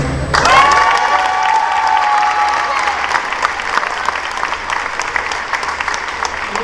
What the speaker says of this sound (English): One more round of applause for our two senior members